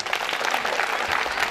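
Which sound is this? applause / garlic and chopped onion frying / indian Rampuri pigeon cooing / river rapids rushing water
applause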